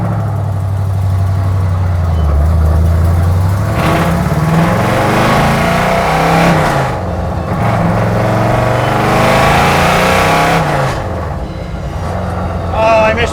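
A 1970 Datsun 510 pulling away from a gas station, its engine loud and close, revving up and shifting through gears with rising and falling pitch and rough mechanical rumble.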